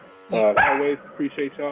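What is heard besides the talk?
dog barking in the background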